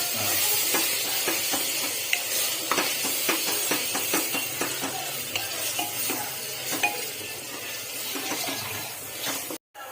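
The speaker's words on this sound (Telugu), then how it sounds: "బాగా అది మసాలా పచ్చివాసన పోయి కొద్దిగా బ్రౌన్ కలర్ వచ్చే వరకు బాగా వేయించుకోవాలి" Masala for chicken curry fries and sizzles steadily in a pan while a spoon scrapes and taps repeatedly through it, a close continuous frying sound with rhythmic stirring strokes, ending in a brief clatter.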